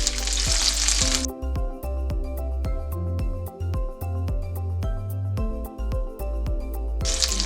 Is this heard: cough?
no